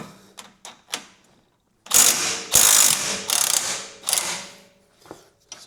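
Pneumatic impact wrench removing an 18mm rear shock absorber bolt on a BMW 120D, heard as four loud rattling hammering bursts after a few faint clicks, close up with no talk.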